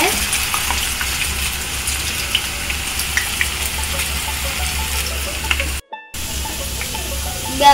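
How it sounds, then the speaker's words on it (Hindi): Spiral-cut potato deep-frying in very hot oil, a steady dense sizzle and crackle that runs continuously at close range, broken by a brief near-silent gap before the bubbling resumes. "हमारा जो ऑयल है वो बहुत हॉट हो गया है, इसमें आपको हॉट ही रखना है। तो हम इसमें डाल रहे हैं"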